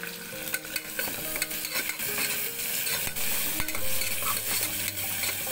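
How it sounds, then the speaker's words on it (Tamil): Onions and curry leaves sauté in a pan for Eid biryani, with a steady crackling sizzle broken by repeated scraping strokes of a spoon. No one speaks. "கருவேப்பிலை சேர்த்து போட்டுருங்க வெங்காயத்தோட. கொஞ்ச நேரம் வதக்குங்க."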